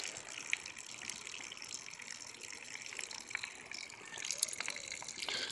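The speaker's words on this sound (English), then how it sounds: "you'll know that it's actually got a good vacuum and it's going to drain the whole bed" Water rushes and gurgles steadily through an aquaponics bell siphon as it drains a grow bed, a faint continuous flow with a few louder splashes and no talk over it.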